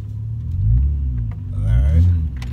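A car turns around in a lot with the wheel cut hard, its engine giving a low steady rumble that swells twice as it moves, heard close with a voice speaking over it.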